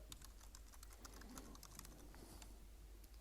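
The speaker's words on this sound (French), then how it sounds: "Je tape mon adresse email" Fast, rhythmic clicking of keys as someone types an email address on a computer keyboard, quiet and close, with a faint steady hum underneath and no talking.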